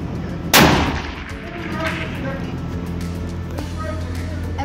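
A single loud rifle shot cracks out during a hunt, then rolls away into a fading echo, followed by people talking.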